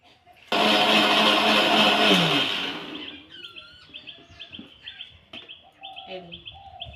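An electric mixer grinder blending corn into a paste roars loudly for about two and a half seconds, then winds down, leaving bird chirps and faint background noises.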